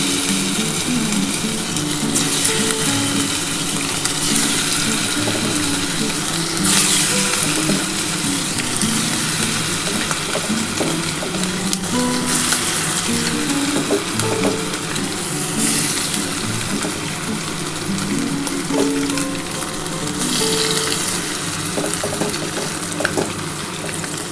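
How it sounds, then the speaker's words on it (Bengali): Chicken pieces for chilli chicken fry in hot oil, a loud, close, continuous sizzle with occasional stirring and scraping throughout, no talking. "এবার যে কটা বাকি রয়েছে সেই কটা আমি ভেজে নিই"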